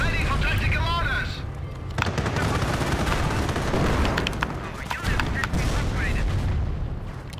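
Sustained gunfire and artillery blasts from a Company of Heroes: Opposing Fronts battle, a loud continuous barrage of shots and booms with voices shouting over the fighting.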